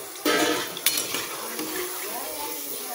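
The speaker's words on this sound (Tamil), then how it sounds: "இதே மாதிரி எல்லாத்தையும் பொரித்து எடுத்துடலாம்." Bitter gourd slices fry in oil, a bright bubbling sizzle that starts abruptly, with a metallic clink of a utensil on the pan and steady frying continuing close by.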